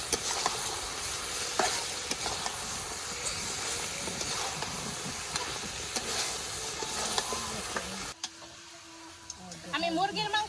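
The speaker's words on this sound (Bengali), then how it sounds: "মাংসটা এত সুন্দর করে কষিয়ে নিছি" Country chicken meat sautéing and being stirred in a pan, a loud continuous sizzle with scraping stirs for most of the stretch, then dropping away near the end as a voice speaks.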